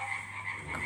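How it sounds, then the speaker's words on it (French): A frog croaks steadily at close range, a low throaty call that holds for under a second with no other sounds around it. "la grenouille."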